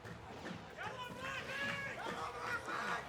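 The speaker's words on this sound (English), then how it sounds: "everybody's like cheering for Starboy right now" Crowd noise at a Smash Bros tournament during Day 1 of VBG Qatar 2025, a steady murmur of chatter and shouts rising into cheers for a player, with close commentator-like voices on top.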